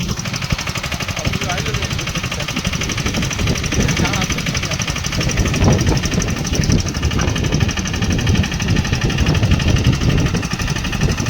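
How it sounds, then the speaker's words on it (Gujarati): A tractor engine idles on a farm, a steady close mechanical chug with a fast knocking pulse that grows slightly louder midway. "આ ટ્રેક્ટર છે"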